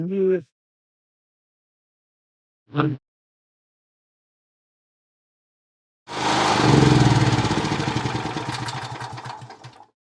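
Petrol generator for an off-grid home starting with an automatic choke, a couple of brief bursts followed by silence, then the engine catches with a loud rough roar that gradually settles, close by.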